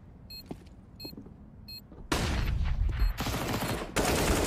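An MP9 submachine gun fires in a Counter-Strike professional match, starting after a few quiet electronic beeps with sustained, loud rapid-fire bursts at close range and a brief break between them.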